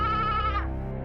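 A goat gives a single close, wavering bleat that lasts about a second and then cuts off, with no other sound.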